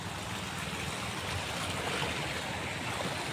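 River water pours over a small check dam during a flood, a continuous rushing, churning roar heard alone at moderate distance.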